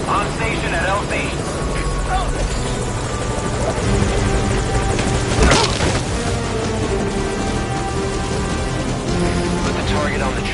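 A helicopter roars loud and close throughout, its dense rotor and engine noise steady with a brief sharp burst midway, while voices speak over it in a military landing-zone scene.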